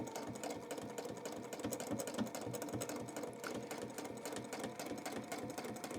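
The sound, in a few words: sewing machine stitching, free-motion quilting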